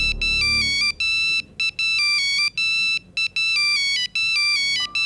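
An incoming phone call rings with a loud electronic melodic ringtone, its bright tune repeating in quick phrases separated by brief gaps, with no voices over it.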